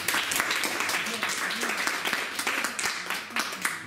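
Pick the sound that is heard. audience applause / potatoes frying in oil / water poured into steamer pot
audience applause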